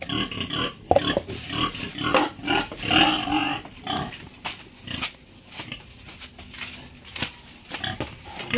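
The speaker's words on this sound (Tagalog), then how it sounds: "magbigay tayo ng pagkain sa baboy." Pigs grunting and squealing at feeding time on a farm, with busy overlapping grunts, clatter and animal noise throughout, loud and close, with no talk.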